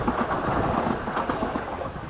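A train rushes past close by while riding aboard another train, a dense, loud rumbling roar with rattling, steady for the whole short stretch.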